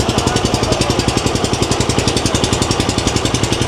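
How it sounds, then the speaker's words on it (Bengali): A fishing boat's engine runs on a tidal river in the Sundarbans during the monsoon, making a loud, close, steady rhythmic chugging that stays even throughout, and no voices are heard. "এখন নৌকাটা চলছে"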